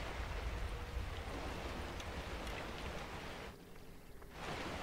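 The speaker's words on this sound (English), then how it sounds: "It's raining?" Steady rain hiss in the video game Sinister fills the scene, dipping briefly near the end before returning, with no voices present.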